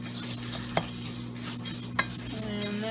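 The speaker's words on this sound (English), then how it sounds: "Just gonna stir those together" A utensil scrapes and clinks in a bowl while stirring together dry cookie ingredients of oats, sugar, chopped nuts, cinnamon, baking powder and salt, giving several sharp close taps over a gritty rustle.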